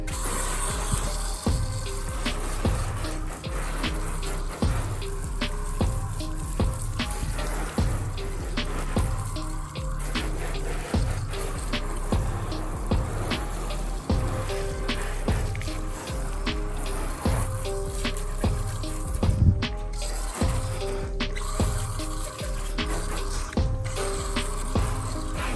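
Water from a hose rinsing a car during a hand car wash in hot Las Vegas weather, a steady spraying and splashing hiss that runs continuously without pause, close by.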